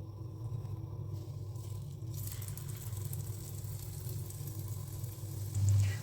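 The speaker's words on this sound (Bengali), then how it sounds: "এখন আমি ডিমের চপটাকেও ভালোভাবে ভেজে নিতেছি।" Egg chops, Bengali breaded egg cutlets, frying in hot oil in a home kitchen, giving a steady, close sizzle and crackle that holds evenly throughout, with no one talking.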